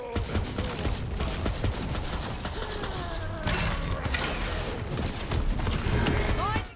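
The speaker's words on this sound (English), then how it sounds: "Let's just keep shooting." Gunfire and combat clatter in the video game Tiny Tina's Wonderlands, with steady rattling shots layered under chaotic action effects and a voice speaking over the noise throughout.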